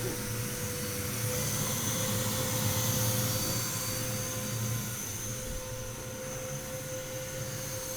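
A waste-oil burner in an air heater roars steadily with a broadband rushing drone and a constant low hum, holding an even, fairly loud level throughout with no voices.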